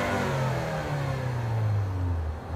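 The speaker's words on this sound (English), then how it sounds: "Sound of power." Lincoln MKZ with a turbocharged engine revving up and settling back, a steady mid-pitched engine note heard close and loud with no talking.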